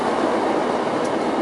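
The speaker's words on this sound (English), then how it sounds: "Again, I apologize for the train." A train passes close by with a loud, steady rumble and hiss that fills the whole stretch. No one speaks.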